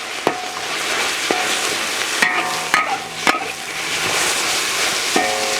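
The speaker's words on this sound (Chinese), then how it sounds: "下入猪肉炒" Minced pork sizzles and stir-frying in hot rapeseed oil, a steady loud crackle broken by sharp scraping and knocking strokes of a spatula against the wok, with no talking.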